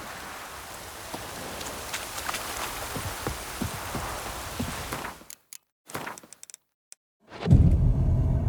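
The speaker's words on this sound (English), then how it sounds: "Looks like rain." Steady rain pours across an outdoor scene in The Witcher 3: Hearts of Stone, a dense hiss with scattered drop patter that drops out abruptly midway, then returns as a louder, low-heavy downpour near the end.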